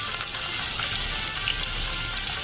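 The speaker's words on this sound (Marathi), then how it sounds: "आपलं तेल छान तापलंय, तर आपण तेजपत्ता आणि वेलची वगैरे टाकून घेऊया. आता कांदा टाकूया लगेच." Onion, bay leaf and cardamom frying in hot oil for a rajma curry make a continuous bright, close hiss of sizzling with faint crackles throughout.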